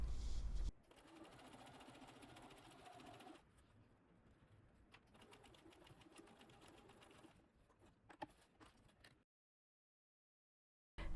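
A sewing machine stitches an elastic waistband onto a pair of shorts, a steady low mechanical run that carries on for several seconds before stopping, with no voices.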